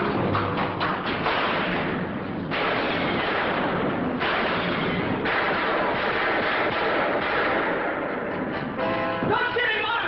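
Gunfire in a 1951 Dragnet police radio drama: a dense, loud barrage of booming shots and thuds that fills the whole stretch without a break, sounding close and heavy.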